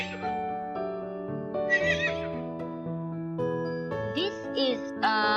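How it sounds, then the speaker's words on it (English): A horse neighs and whinnies in repeated bursts, loud and close, with long wavering calls and shorter high squeals, set over a sustained musical tone. "This is a horse and its sound."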